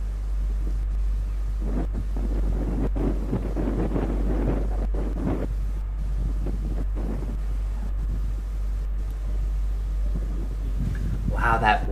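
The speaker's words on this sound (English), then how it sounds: "that wind is really gusting now" Strong gusting wind buffeting the microphone on a golf course, a constant low roar with surging bursts, while a commentator talks over it.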